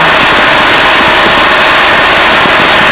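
An RV-6 light airplane's piston engine drones loudly and steadily as the throttle comes up for a formation rollout, a continuous dense roar heard from inside the cockpit with no talk.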